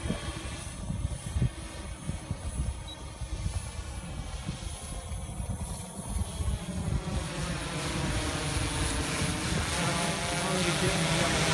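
A DJI S1000 multirotor drone flies steadily nearby, its motors and propellers giving a continuous broadband whirring drone that grows slightly louder and denser toward the end, with no talk over it.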